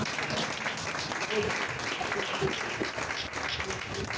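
A church congregation applauding and cheering together, steady clapping filling the whole stretch with voices mixed in.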